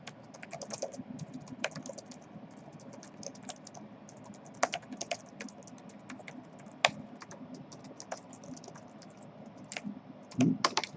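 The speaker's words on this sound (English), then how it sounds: "And just type a very simple message." Typing on a computer keyboard, a fairly quiet run of irregular key clicks spread across the whole stretch with a few louder taps, close by and with no talking.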